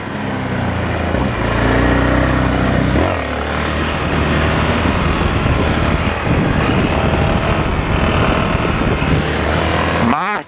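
A Yamaha XT 660 motorcycle engine roars loud and close during a wheelie, holding a steady high rev with shifting pitch and a quick drop near the end; no voice comes through over it.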